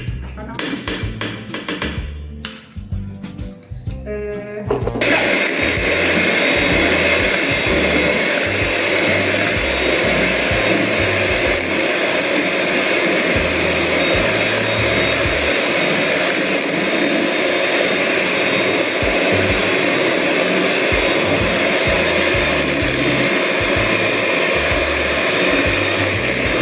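Electric hand mixer whipping sponge roll cake batter, running as a loud, steady whir throughout after a brief stretch of clattering at the start.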